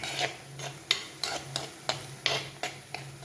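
A spoon stirring bitter gourd and its leaves cooking into a thoran in a pan, rhythmic scraping strokes about every third of a second against a faint sizzle, close and with no talk.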